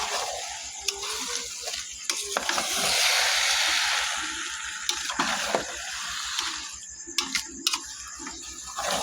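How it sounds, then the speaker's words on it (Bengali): Rice frying in a pan for biryani, a continuous sizzle with a brighter surge in the middle and occasional scraping clicks of a utensil stirring the grains. "সুন্দর করে চালটা ভেজে নিচ্ছি।"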